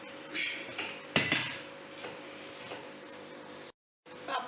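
An unniyappam pan (appakkara) set down on a kitchen stove: one sharp metallic clank, then lighter scattered rattles and clinks, fairly quiet, with a brief silence near the end.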